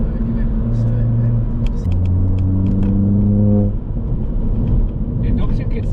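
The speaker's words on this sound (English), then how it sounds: "The induction kit sounds good as well." Stage 2 Ford Fiesta ST engine fitted with an induction kit, a steady rumbling drone that rises in pitch as it revs up through a gear, then settles back, heard from inside the car under ongoing conversation.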